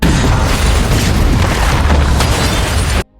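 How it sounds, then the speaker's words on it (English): A huge film explosion as a machine is forced into a spinning turbine: a loud, sustained booming roar fills the whole stretch, then cuts off abruptly at the end. "Together, they force the Rev 9 into the spinning turbine, causing a huge blast."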